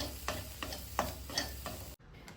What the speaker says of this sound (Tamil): காரத்துக்கு தேவையான அளவு பெப்பர் எல்லாம் சேர்த்து மிக்ஸ் பண்ணிவிட்டு ஸ்டவ் ஆஃப் பண்ணிடலாம்